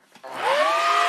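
A vacuum cleaner starts up with a short click, then its whine rises and holds steady at a high pitch, loud and close.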